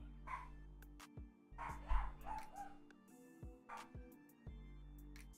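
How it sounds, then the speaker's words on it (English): Several dogs bark indoors in short, sharp bursts at low volume, with yips and brief whimpers between the barks and no talking over them. "Sorry about the dogs."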